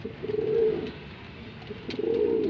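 Pigeons coo in low, rounded phrases, one burst near the start and another toward the end, close and clear against a quiet background with no talking.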